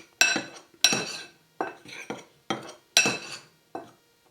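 A spoon mixes seasoning and black pepper in a bowl, giving about eight sharp, ringing clinks against the side at an uneven pace, close and clear, with no voices.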